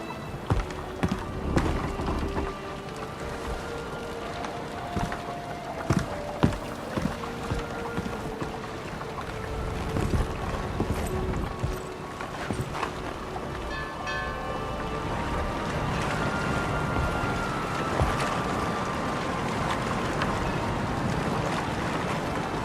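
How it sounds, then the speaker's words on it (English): A sailing boat casting off in The Witcher 3, heard as creaking wood, sloshing water and wind noise with occasional knocks, rising into a steady broad rush of travel over the sea. "Miss Marigold, we're casting off"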